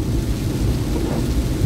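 Heavy rain pouring steadily with a deep rumble of thunder underneath, a loud dense wash of sound with no voices.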